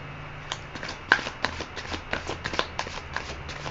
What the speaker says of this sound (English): I'm going to try and shuffle and rifle one more time.